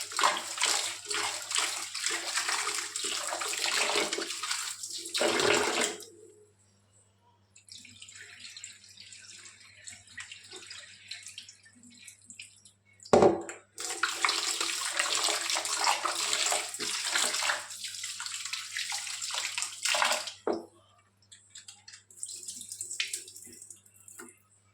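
Chicken pieces are washed under water, with running water gushing and splashing close by in long bursts, broken by short pauses and a sharp knock near the middle.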